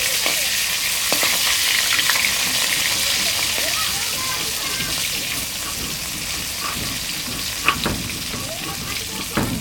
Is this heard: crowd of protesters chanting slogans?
no